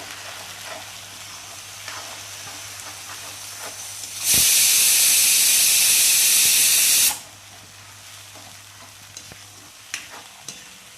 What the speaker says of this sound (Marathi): आता ह्याच्यामध्ये मी टॅमॅटो अद्रक कोथिंबीर पेस्ट केलेलं लसूण ते छान परतून घ्यायचं आपल्याला